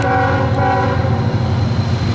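A CSX Q693 manifest freight train climbing a hill near Spruce Pine sounds its horn, a loud, steady, sustained blast over the rumble of the passing train.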